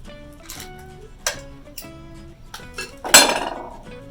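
Chunks of cream cheese dropped into a pot of potato soup, giving a series of light clinks and knocks of a spoon against the pot, ending in a louder, brighter clatter near the end; close and clear, with no talking.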